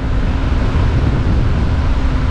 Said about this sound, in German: Richtig krasser Gegenwind.